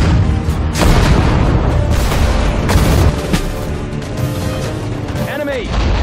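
Heavy WWII battle gunfire and artillery booms from the strategy game Sudden Strike 4, Battle of the Bulge, loud repeated blasts and crackling shots through the whole stretch, with shouted unit voice lines over them.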